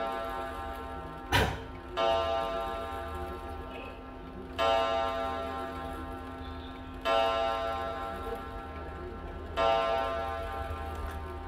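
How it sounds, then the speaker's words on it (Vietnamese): An old, clearance-sale electric thermos flask with a built-in clock gives a steady, close tick that repeats every couple of seconds over a constant low electrical hum, with no voices. "đồng hồ vẫn chạy bình thường"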